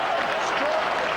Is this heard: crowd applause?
yes